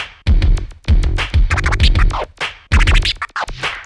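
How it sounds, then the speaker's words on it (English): A DJ scratches on a turntable, moving from quick scribbles into triplet patterns, with loud repeated clusters of sharp rapid strokes separated by short pauses. "Let's do the scribbles into the triplets"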